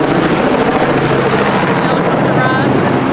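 A loud, steady engine roar with a pulsing rotor-like throb from a tour helicopter at Pier Park, Florida, close by and continuous throughout.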